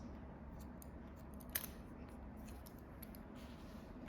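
Hair shears snip during point cutting on an edgy pixie cut for a woman over 50, a single crisp metallic snip standing out over a low steady room hum.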